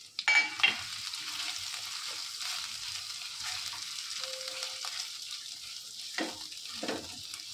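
A pounded paste of garlic, ginger and green chilies goes into hot oil with crackled mustard and cumin seeds for a Gujarati kadhi tempering, an immediate loud sizzle that settles into a steady frying hiss with a few stirring clinks.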